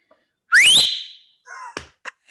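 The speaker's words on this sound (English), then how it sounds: "Go and do the whistle now." A person gives a loud, sharp rising whistle, close by, followed by a couple of shorter whistled chirps and brief bursts.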